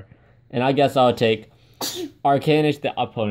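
A single sharp sneeze breaks into a conversation over a Magic: The Gathering card game, with people talking before and after it.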